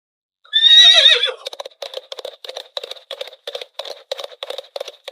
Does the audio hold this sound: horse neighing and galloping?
yes